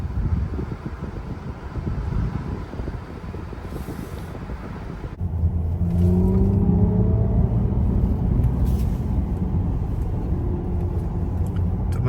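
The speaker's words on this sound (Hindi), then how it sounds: "मैंने कहा ज़रा पिकअप आपको दिखाऊं कि गाड़ी की कितनी पिकअप है।" A 2024 Mercedes-Benz EQE500 electric sedan pulls away hard in sport mode. A steady road rumble swells midway, and a faint rising electric whine climbs over the wind and tyre noise inside the cabin.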